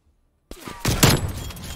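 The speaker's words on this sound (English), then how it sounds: "Where is this guy shooting?" Gunfire in Call of Duty Cold War breaks out suddenly after a silent start, a quick cluster of loud bangs followed by a ringing, rumbling tail.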